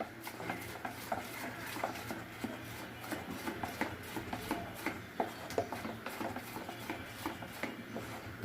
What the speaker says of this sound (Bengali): এখন ভালো করে আমি মিশিয়ে নেব।